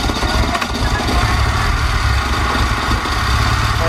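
Honda S2000 engine being cranked and sputtering during a restoration, running rich, with a steady loud rumbling mechanical drone throughout, close up.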